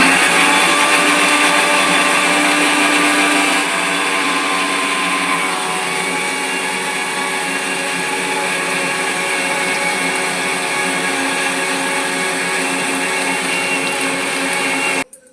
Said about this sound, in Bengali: এখানে মা মিক্সি চালাতে চালা